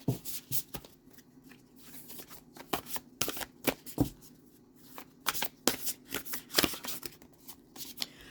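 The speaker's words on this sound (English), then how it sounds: "Let's go ahead and get you some spellcasting oracle cards" Spellcasting oracle cards being shuffled by hand up close, with quick riffling bursts and soft papery flutters in an uneven rhythm, quiet overall and with no voices.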